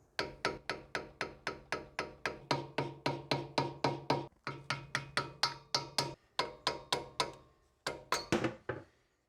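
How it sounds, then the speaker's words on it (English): A hammer drives a flathead screwdriver to wedge the dust cap off a Toyota Land Cruiser 100 Series front wheel hub, a long run of sharp, evenly spaced metallic taps with a couple of brief pauses. "take a flathead screwdriver and a hammer, and we're just going to gently wedge the existing dust cap off"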